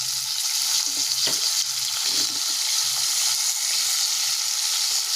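Whole okra and green chillies frying in hot oil with nigella seeds, a steady loud sizzle with faint clinks of stirring, no voices.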